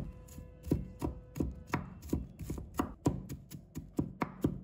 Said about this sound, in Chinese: 把它切成片，我们可以多切一点，那样蒜香味更加的浓郁。 再切成末